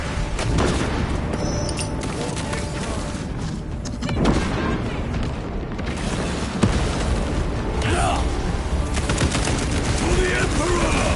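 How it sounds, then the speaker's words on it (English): Heavy gunfire and a booming krak grenade blast in Warhammer 40k Space Marine, continuous loud shooting throughout with a sharp explosion partway through, under game voices shouting. "Priming crack grenade!"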